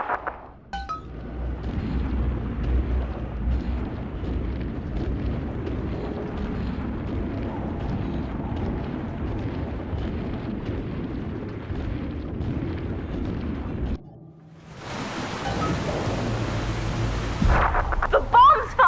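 Bomb explosions in BioShock 2 roll through a sustained, thunderous low rumble for about fourteen seconds, then cut to a brief hush before a loud hissing, crashing burst returns near the end.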